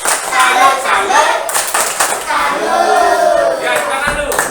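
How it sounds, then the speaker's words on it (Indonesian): A classroom of children does a rhythmic salute clap, sharp hand claps in a patterned beat mixed with loud voices chanting along close by. "Berikan tepuk salut kepada kelompok konsumsi."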